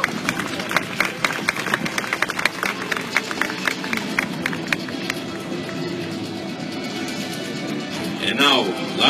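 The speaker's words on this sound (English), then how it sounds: "Let's give a round of applause" Crowd applause and scattered cheering from spectators at an army open house defence display as a Special Forces soldier lands, dense clapping early that thins out, with an announcer's voice over it and a brief engine-like whine near the end.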